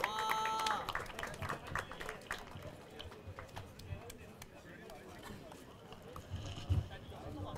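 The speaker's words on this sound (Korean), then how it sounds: "박수 부탁드립니다." An audience applauds at an amateur boxing competition ceremony in Gwangalli during a flower presentation to a newly inaugurated chairman. The dense, steady clapping is loudest at the start, then carries on at a moderate level.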